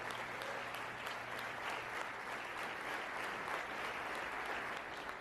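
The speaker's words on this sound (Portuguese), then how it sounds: "Você pode aplaudir a vitória de Cristo?" A congregation applauding in church, a soft, distant wash of many hands clapping that holds at an even level throughout, with a low steady hum underneath.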